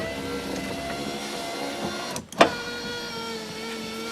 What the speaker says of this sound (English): window motor's back in